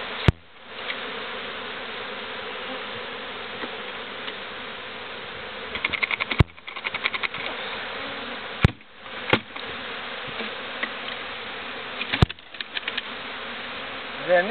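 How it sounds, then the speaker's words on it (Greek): A swarm of pine honey bees buzzes loudly and continuously up close, a dense steady hum broken by a few sharp clicks and knocks. "τόση μέλισσα που βρέθηκε."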